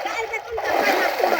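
Splashing of someone dipping into cold river water during a bath, a continuous close wash of water splatter lasting about a second and a half, with a voice faintly mixed in.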